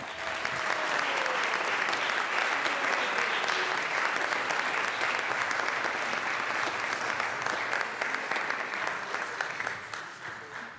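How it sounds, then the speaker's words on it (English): Sustained round of applause from members in a state House of Representatives legislative chamber, steady and dense for about ten seconds before tapering slightly at the end. "Let's give him a good round of applause."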